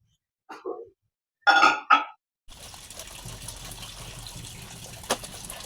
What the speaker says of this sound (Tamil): தண்ணி ஊற்றி ஊற வச்சுக்கலாம்